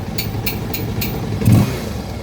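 A Bajaj Rouser 220 motorcycle engine idles with a close, rough rumble, then gives one brief rev midway and settles back. No one speaks.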